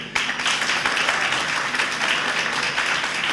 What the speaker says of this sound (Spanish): Un gran aplauso nuevamente.